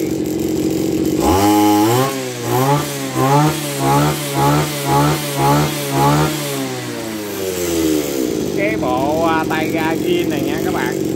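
A Zenoah Komatsu CZE261H 26cc brush cutter engine with a 34 mm bore revs in a quick series of rising and falling bursts, then settles to a lower run. Someone speaks briefly near the end.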